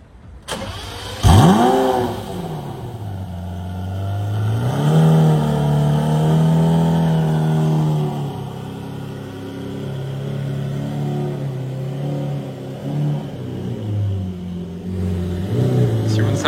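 A Lamborghini Reventon Roadster engine cranks and fires with a sharp bark, then revs in a rising and falling roar before settling into a loud, rough idle, with voices talking over it.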